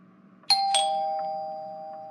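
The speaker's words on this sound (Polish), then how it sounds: "O, to dzwonek do drzwi, a więc idę otworzyć." A two-tone doorbell chime rings out clearly, a bright ding followed by a second tone a quarter second later, then a long sustained ring slowly fading in a quiet room with no talking.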